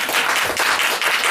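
A live stand-up audience bursts into loud, close applause, a thick continuous patter of many hands clapping without a break.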